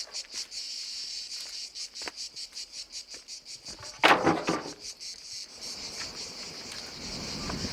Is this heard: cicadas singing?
yes